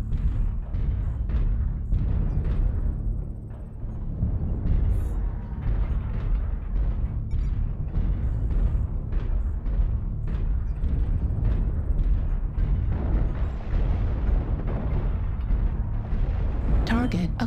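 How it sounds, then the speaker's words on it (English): Artillery strike explosions in the video game MechWarrior Online, with an Atlas AS7-RS mech in battle: a continuous deep, rumbling barrage of blasts and crackling bursts, loud and sustained throughout. "Artillery strike online."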